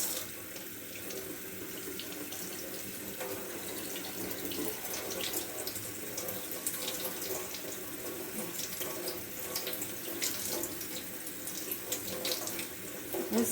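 Water pours from a kitchen tap into a sink, rinsing enoki mushrooms, a steady faint splashing rush with small irregular spatters and no voices.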